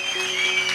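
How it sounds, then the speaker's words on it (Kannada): Crowd applause at a church meeting, a dense, steady wash of clapping that stays loud from start to finish of a brief burst, with a faint sustained musical tone underneath. "ಜೋರಾಗಿ ಬರ್ಲಿ ಚಪ್ಪಾಳೆ."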